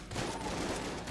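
Rapid shotgun blasts in the video game Enter the Gungeon, a dense run of overlapping gunfire bursts that stays loud and continuous without any talking.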